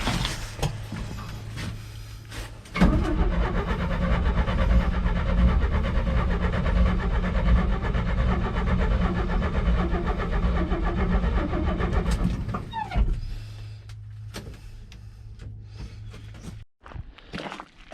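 A 1997 Chevy C10 squarebody step-side truck gets a starting attempt after fuel starts flowing. Quiet background gives way to about ten seconds of loud, continuous engine noise that then drops back to quiet.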